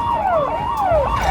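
An ambulance siren wails in a close, loud, continuous up-and-down sweep during an emergency mock drill in Uttar Pradesh where students are being carried into ambulances.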